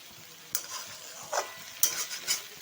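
Taro stolons (kochur lothi) frying in a pan with salt, a quiet sizzle broken by a few sharp scraping stirs of a spatula, with no talking.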